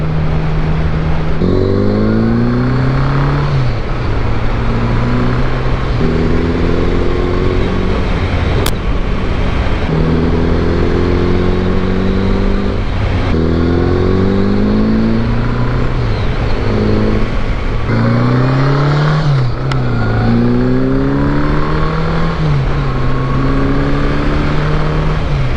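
An old motorcycle engine rumbles steadily throughout while riding, its pitch rising and falling repeatedly as the rider shifts and accelerates, loud and close.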